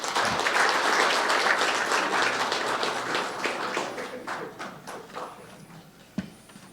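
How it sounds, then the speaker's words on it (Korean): Sustained applause from the audience after a waste-resource energy policy and technology forum agreement is signed at a launch ceremony. The dense clapping is loud at first, then thins and fades over about six seconds. "박수 부탁드립니다."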